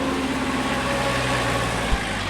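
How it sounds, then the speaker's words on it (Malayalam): A vehicle engine idles steadily after pulling up, a constant low rumble with a faint hum, close by and unbroken, with a brief thump near the end. "നിനക്ക് പോവാനുള്ള വാഹനം എത്തിയിട്ടുണ്ട്."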